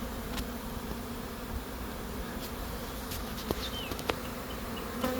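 A swarm of honeybees flies around a hive box close by, their dense, steady humming continuous throughout, with a few brief louder buzzes as individual bees pass near.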